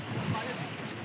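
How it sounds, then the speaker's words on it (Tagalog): Calm sea waves at Obhur beach wash in a soft, steady surge, with wind buffeting the microphone over the brief stretch. "kalmante ang dagat"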